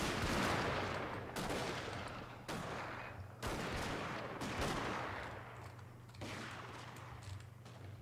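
Royal Marines laying down suppression fire in a video game battle: bursts of sharp gunfire crack one after another over a low droning hum, loud and close, with volleys repeating every second or so.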